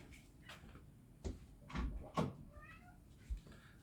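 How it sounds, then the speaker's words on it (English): A pet cat meows a few times indoors, short faint calls mixed with household knocks and door or cupboard sounds, at a quiet room level. "If you can hear some weird noises, by the way, that's my cat."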